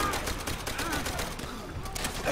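Rapid, steady gunfire rattles throughout a battle in Call of Duty World at War, loud repeated shots blending with shouting voices in the mix.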